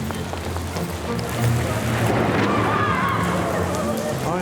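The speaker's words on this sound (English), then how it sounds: "Oh, it started raining? Here?" Steady rain pattering on a surface, growing slightly heavier midway, with voices talking underneath.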